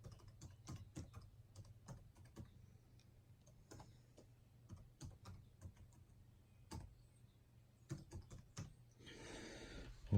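Fast, light clicking of keys on an Alienware Area 51m laptop keyboard as an email address is entered, steady irregular taps close and quiet with no talk.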